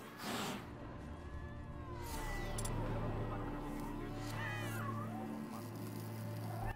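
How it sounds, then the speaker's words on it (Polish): Several cats meow and caterwaul in the video game The Witcher 3, fairly close and repeated over a steady low ambient hum, with little talk. "O, koty."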